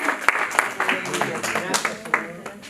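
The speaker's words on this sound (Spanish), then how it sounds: "Dense un aplauso para ustedes mismos." A Bible study group applauds itself, giving brief, scattered claps under a lively room tone, with a voice speaking over part of it.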